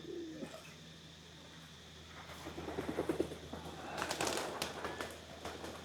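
A small bird coos at a temple in Chiang Mai, Thailand, its soft calls recurring close by over a steady outdoor ambience, with other chirps and rustling noises mixing in toward the end.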